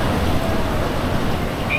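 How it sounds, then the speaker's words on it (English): Steady rumble of a Tokyo monorail train in motion, a continuous low rolling drone heard from inside with a faint brief high whine near the end and no talking. "Tokyo monorail."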